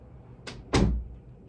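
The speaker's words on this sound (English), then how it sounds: "Close the door." A door is shut indoors, a light first contact followed by a louder, close thud that fades quickly, with no talking.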